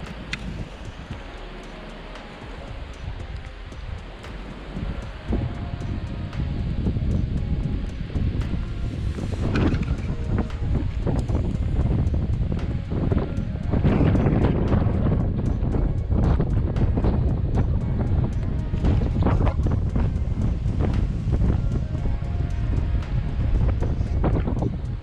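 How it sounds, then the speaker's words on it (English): Wind blows hard and steadily through trees at a cold backcountry campsite in Algonquin Provincial Park's Western Uplands, a loud, broad rushing roar that builds after the opening seconds, with gusty buffeting against the microphone. "It's windy as hell,"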